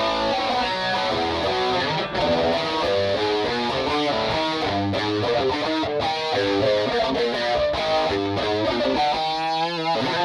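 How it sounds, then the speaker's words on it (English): An electric guitar played through a distortion pedal on a Line 6 HX Stomp, heavy distortion with thick, sustained chords ringing continuously at steady loudness. "the distortion pedal"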